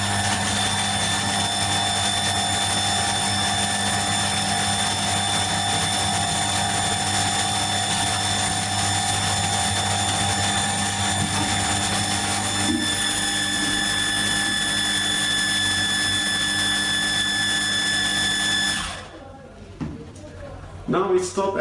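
An automatic pressure control device runs its pump up toward 6.5 bars, a steady loud mechanical whine with a constant tonal hum that cuts off near the end, leaving faint handling noises.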